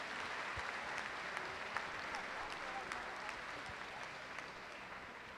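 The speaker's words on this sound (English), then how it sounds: "let's give a huge round of applause to the participants and Shivaram sir" Audience applause for quiz participants and their host at the QuizBuzz finals during a school morning prayer assembly, a steady wash of many clapping hands held at a fairly even level throughout.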